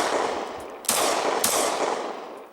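Two loud, sharp gunshots from a Glock 20 pistol, fired through a Magnum-sized latex condom over the muzzle, about half a second apart, each leaving a long reverberant decay in a loud outdoor setting.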